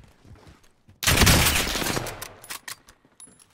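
Burst of rapid automatic gunfire in Call of Duty Vanguard Warzone on Rebirth Island, a dense close volley lasting about a second after quieter shots, then scattered fainter pops trailing off.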